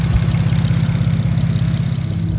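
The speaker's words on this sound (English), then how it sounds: "I'm not sure what exhaust this thing has on it, man, but it sounds pretty gnarly." A BMW 335xi idles with an aftermarket-sounding, gnarly exhaust, a loud steady low rumble with a fast even pulse, close to the car and with no talk over it.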